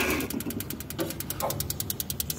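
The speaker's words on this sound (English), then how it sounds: "See, gas is burning, and this ignition will be stopped after a while." A gas geyser burner roars steadily while its auto-ignition spark clicks in a fast, regular ticking train, close and fairly loud.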